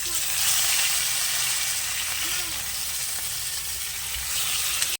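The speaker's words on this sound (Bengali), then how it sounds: "তারপর এখন এই চিংড়ি মাছগুলো ভেজে নেব" Prawns, coated in salt and turmeric, frying in hot oil in a pan, giving a steady, loud broadband sizzle throughout with no pauses.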